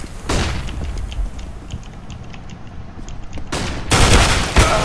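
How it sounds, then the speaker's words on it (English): Game sound effects during a round of CS:GO on the Cache map, with repeated loud broadband bursts, including a sharp blast near the end, over a steady background of in-game noise and gunfire-like cracks. "Throwing flashbang."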